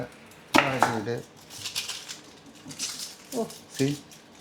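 Sharp knife chops on a cutting board, a few scattered strikes with pauses between them, close by, under some faint background voice.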